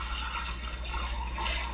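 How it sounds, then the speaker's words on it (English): Water running into a pot of pork neckbones to cover them for boiling, a steady gushing, filling rush that holds constant throughout, close and fairly loud with no talking. "I'm going to add water to it so that the water covers the top."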